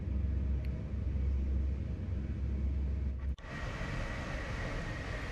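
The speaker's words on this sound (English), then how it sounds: "C says, incoming train sound reminds me of TSC." An ICM Koploper or SNG electric multiple unit on the Zwolle–Groningen line in a train simulator game, a steady low rumble of wheels on rails with a brief dip and clunk midway.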